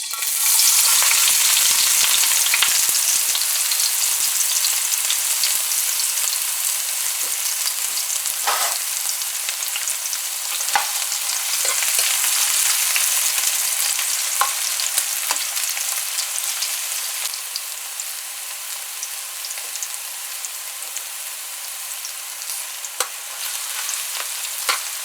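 Onions fry in hot oil with a loud, continuous close-up sizzle that starts strong and eases slightly over time, with occasional small crackles and stirring sounds, no voices.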